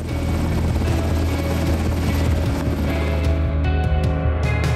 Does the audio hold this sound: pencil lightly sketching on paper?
no